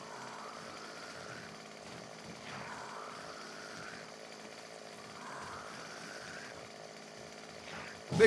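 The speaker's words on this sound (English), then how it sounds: "Oh, we're gonna need chainsaw again." A chainsaw in the game 7 Days to Die drones steadily for several seconds with periodic rising revs, a mid-level mechanical buzz heard alone with no talking.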